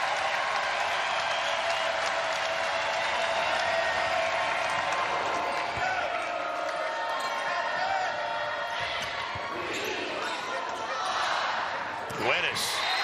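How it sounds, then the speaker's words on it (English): Loud crowd noise fills an indoor college volleyball match between Baylor and Texas, a steady broad roar with applause and scattered shouts throughout, swelling near the end with sharp bursts. "The crowd is loud again."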